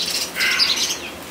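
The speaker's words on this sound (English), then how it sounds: "the birds around here are so noisy." Brief, shrill bird squawks and chirps, fairly close, a quick burst of calls with no talking.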